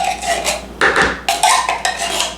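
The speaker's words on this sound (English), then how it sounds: "Scoop out the cream of chicken soup." A spoon scooping and scraping cream of chicken soup out of a metal can, several close clinking and scraping strokes in quick succession, loud and alone.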